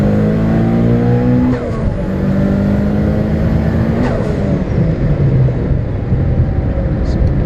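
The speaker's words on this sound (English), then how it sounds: "So here's first gear, a little punch." A 2003 Mitsubishi Lancer EVO 8 on low turbo boost pulls hard in first gear, its loud engine note rising steadily with a brief dip and climb as it revs, heard close from inside the car.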